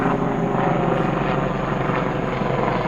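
A helicopter flies overhead, its rotor throbbing loudly in a steady, close, continuous beat that fills the whole stretch.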